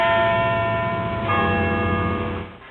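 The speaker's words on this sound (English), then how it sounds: "it will trigger a ringing of the great cathedral bells" Great cathedral bells ring out loud and sustained, a rich clanging tone with a second strike partway through, the resonance slowly decaying.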